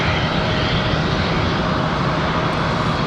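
Delta airliner departing Charlotte Douglas airport close by, loud continuous jet engine roar throughout with no voices.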